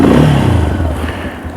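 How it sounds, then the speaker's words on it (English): A Tekken 250 dual sport motorcycle engine revs up loudly nearby, the pitch sliding down as it settles into a rough, throbbing idle. "Let's get the engine sound."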